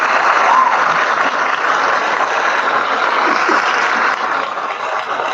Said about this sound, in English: Can we get the applause for our guest today?